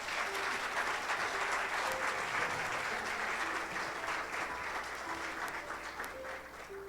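A church congregation applauds during a Spanish-language sermon, a steady, even wash of many hands clapping at once. The applause sounds somewhat distant and holds at a constant level throughout.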